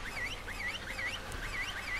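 Birds in Ark: Survival Evolved give a quick series of about five short, repeated calls at an even pace, set over a faint low background hum.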